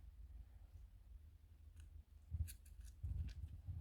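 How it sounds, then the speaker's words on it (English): Scissors snip acrylic nail tips during an acrylic nail shaping session, giving a few soft, close clicks and squishy cuts against a low background hum, with the sharpest snips near the end. "These scissors are not the best."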